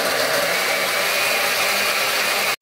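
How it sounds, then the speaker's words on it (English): A kitchen blender whirs steadily as it purees guava with water, a loud continuous motor-and-blade roar lasting a couple of seconds before cutting off abruptly, with no talking. "So we're adding our guava to our blender and we're going to blend."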